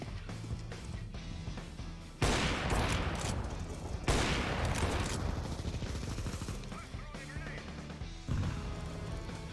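Submachine gun fire in a video game: loud, dense bursts of rapid shots begin around two seconds in, with another heavy volley soon after and sporadic cracks and impacts continuing to the end.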